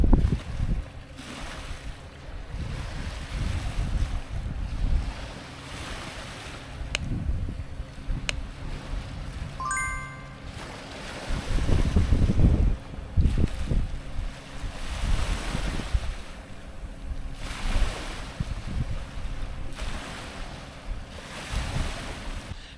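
Gusty wind and surging waves rush continuously beside Lochranza pier as the ferry MV Catriona approaches, its engine rumbling low underneath, with a brief beeping tone partway through.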